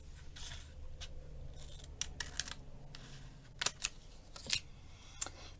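Scissors snip through a printed paper image in a handful of crisp, close cuts spaced a second or so apart, over a soft steady background hum, with no talk.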